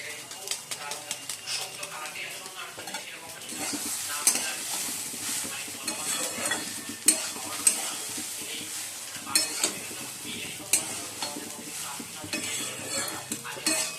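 Bengali fried rice seasoned with pepper, salt and Maggi masala is stirred in a frying pan, with quick scraping and clinking strokes over a continuous close sizzle.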